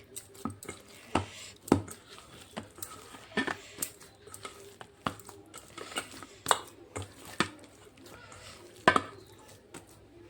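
Bread dough being kneaded by hand with butter in a home kitchen, giving irregular soft slaps, thumps and sticky presses spread across several seconds, fairly close and quiet.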